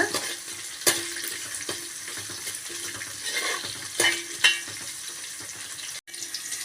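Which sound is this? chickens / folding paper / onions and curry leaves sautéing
onions and curry leaves sautéing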